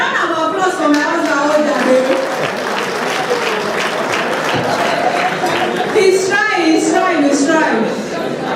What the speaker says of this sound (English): a round of applause for my husband